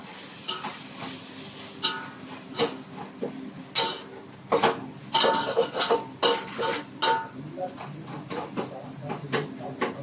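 A washed plate set as a lid over a pot of chicken dum biryani: scattered metallic clinks and scrapes amid kitchen cooking noise, close and fairly loud, with a voice talking at times.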